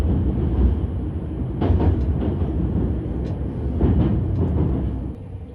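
A Kintetsu limited express train rumbles slowly along the elevated Osaka Higashi Line tracks, its low roar broken by soft rhythmic clacks, fading slightly at the end.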